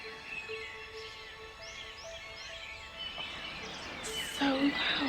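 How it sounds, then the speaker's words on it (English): Many birds chirp and sing across forested mountain slopes in Italy's Apennines, a layered chorus of whistles and trills with a buzz of insects, a louder call rising near the end, and faint talk in the background. "It's so loud. There's so many birds."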